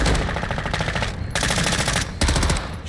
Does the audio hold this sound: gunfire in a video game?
yes